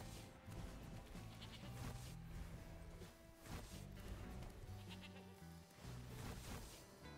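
Goat bleating in the Magic: The Gathering Arena card game, several wavering bleats repeated over a busy layer of background game music and effects, moderately loud and without speech.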